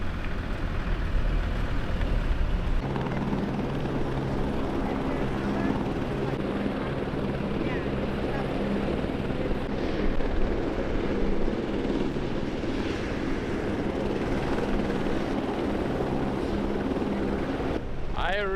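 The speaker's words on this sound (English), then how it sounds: "There's a helicopter in the air right now." A helicopter flies overhead near a remote gas station in eastern Canada, its steady broadband rotor and engine rumble holding across the whole stretch with speech over it.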